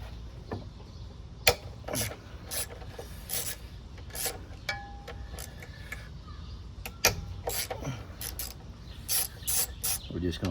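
A ratchet loosens the 12mm pinch bolts on the front axle of a Honda GL1500 Goldwing motorcycle, making rapid, rasping clicks in repeated short bursts at close range, with metallic ticks in between.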